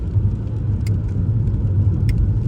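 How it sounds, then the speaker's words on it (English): Steady low engine and road rumble inside a moving Audi A8 Sport, a continuous drone with faint brief ticks, no talking. "So we're now in my car, which is an Audi A8 Sport."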